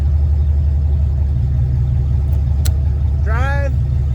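A Ford 6R80 automatic transmission running on a test stand gives a steady low mechanical drone throughout, with a brief click and a short rising whine near the end, under faint talk.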